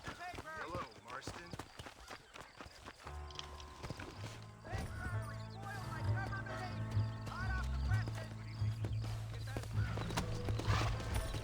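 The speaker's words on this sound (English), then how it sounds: "There's my horse." Horse hooves clip-clop in the Red Dead Redemption video game, a rhythmic trot under a busy layer of music and ambient game sounds that builds steadily louder.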